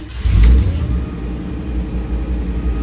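A 1957 Chevrolet Bel Air Wagon V8 catches and settles into a steady, loud, rumbling idle right beside the listener on a snowy day, with a brief louder burst at startup.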